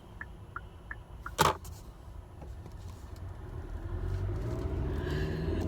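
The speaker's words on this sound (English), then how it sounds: "I wish these cars would come on." Road traffic, with a vehicle's low engine rumble swelling steadily as it approaches and grows louder toward the end, after an early sharp knock and a few faint ticks.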